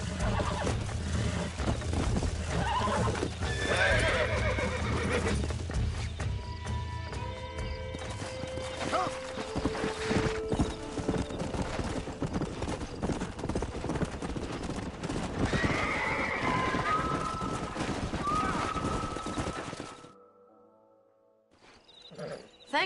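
A stallion in the Red Dead Redemption video game neighs loudly while hooves clip-clop steadily beneath it, with ambient game sound throughout and a quieter fade near the end.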